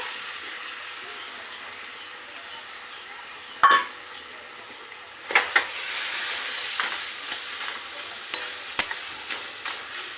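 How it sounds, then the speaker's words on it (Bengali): Young jackfruit drops into hot oil in a wok: a sharp clatter, then a strong rising sizzle with repeated scraping and stirring knocks, close and loud, with no voice. "তেল কড়াইতে তেল দিয়েছি তেলটা গরম হয়ে গেছে এঁচড়টাকে আমি তেল দিয়ে দেবো"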